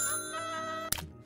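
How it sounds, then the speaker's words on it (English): A short, bright electronic doorbell chime from the shop-management video game Little Big Shop, ringing once over a steady musical background. "Someone's ringing the doorbell."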